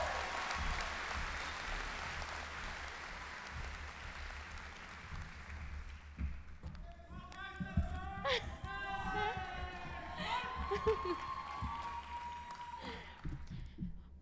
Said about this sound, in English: please give a round of applause for Brenda